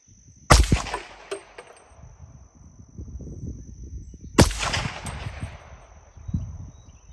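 Two sharp, loud rifle shots ring out several seconds apart at an outdoor range, each a crisp crack with a ringing tail, over quiet background rustle and a faint steady high tone.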